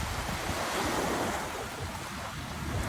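Steady surf washes onto a beach at Negril, Jamaica, a continuous broadband roar of breaking waves with some wind on the microphone and no voices.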